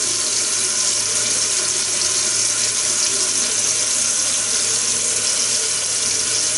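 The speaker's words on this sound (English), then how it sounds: "Obviously, you don't have to wash your entire face every time." Water runs steadily from a sink tap while a face is washed, a continuous close hiss with no breaks.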